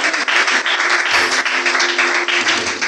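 Church congregation at a Sunday service applauding steadily and loudly throughout, a dense continuous clapping with a faint sustained tone underneath.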